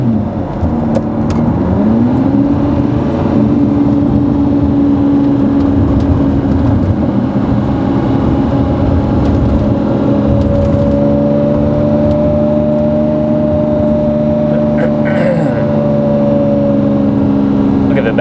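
A Lamborghini Murciélago V12 heard from inside the cabin while driving, a loud, steady engine drone with rising and falling tones as it revs and shifts, with a voice talking over it.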